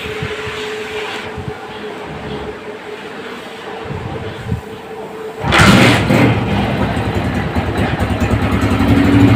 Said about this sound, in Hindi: और अब इंजन का साउंड सुनेंगे, इंजन का साउंड भी चेक करेंगे